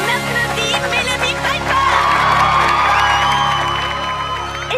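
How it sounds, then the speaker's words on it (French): Animated cartoon crowd at an evening celebration cheering and whooping loudly with applause, a dense sustained roar of voices and shouts that swells and stays steady throughout. "On applaudit Mélodie"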